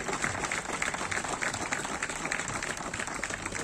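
Audience applause greets a platoon drill performance at a founders' day celebration, steady dense clapping from a crowd at moderate distance, continuous throughout.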